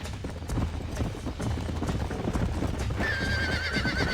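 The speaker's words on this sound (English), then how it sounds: "Let's see if we can track down that other herd of horses." Horses in Red Dead Redemption, heard as a steady rhythmic clip-clop of galloping hooves close by, followed by a clear whinny near the end.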